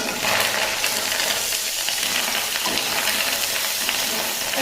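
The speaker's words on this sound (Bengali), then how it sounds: "মাছের ডিম ভাজা হচ্ছে এখন।" Rohu fish roe frying in a pan, a dense steady sizzle and hiss of hot oil running loud and close throughout, with faint scraping of stirring and no talk.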